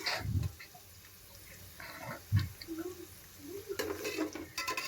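Garlic stirred in a pan as it fries toward golden brown, giving soft scraping and clinking strokes with a few louder knocks of the spoon against the pan over a low, steady sizzle, with no talking.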